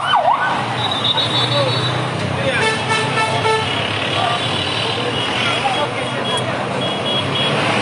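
A fire truck siren wails through loud, busy street noise at a market fire in Maijdee, with horns and heavy traffic rumbling close by and voices talking in the background.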